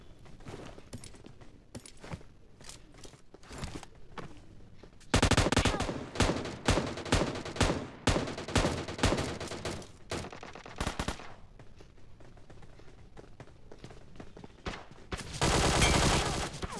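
Rapid automatic M4 rifle fire in a battle royale game, dense bursts of sharp close shots in a long spray, then quieter scattered shots and another short loud burst near the end.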